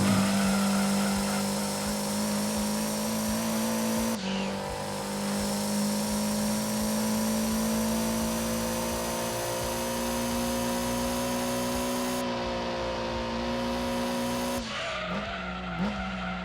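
A car in Gran Turismo 2 on PS1 oversteering in second gear, a loud engine howl paired with long continuous tire squeal as it drifts, briefly breaking off and resuming before trailing off at the end.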